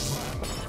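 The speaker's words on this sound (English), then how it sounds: "How did that break glass?" Glass smashes in the VR game Job Simulator's gourmet chef kitchen: one short crash that fades quickly.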